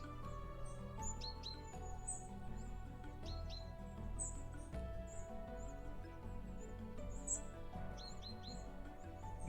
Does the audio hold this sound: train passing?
no